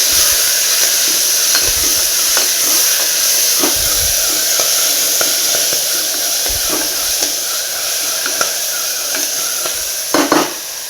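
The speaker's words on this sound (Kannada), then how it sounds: "ಅದೇ ರೀತಿ ಸ್ವಲ್ಪ ಕೊತ್ತಂಬರಿ ಸೊಪ್ಪು ಚೆನ್ನಾಗಿ ಸ್ವಲ್ಪ ಫ್ರೈ ಮಾಡ್ಕೊಳ್ಳೋಣ." Fenugreek and coriander leaves fry in a pan, making a loud, continuous sizzling hiss with a few soft stirring knocks and scrapes scattered through it.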